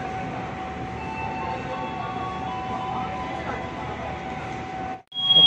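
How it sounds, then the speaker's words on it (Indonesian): Brantas passenger train departing Pasar Senen station, a steady low rumble of rolling rail cars with faint squeals, heard from inside, continuous and fairly loud with a brief dip near the end. "kereta api akan segera diberangkatkan"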